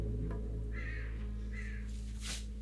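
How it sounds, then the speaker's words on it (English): A few harsh crow caws ring out over a steady low hum, spaced irregularly with short gaps between them. "Damn crows."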